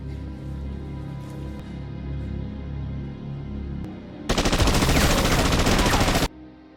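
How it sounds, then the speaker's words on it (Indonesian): Gunfire in an action film about special forces fighting mafia gangsters, a dense loud burst of rapid shots lasting about two seconds after a lower rumbling score, then dropping back. "Dua mafia mengepung Max dan saat itulah Hendrik melepaskan tembakan"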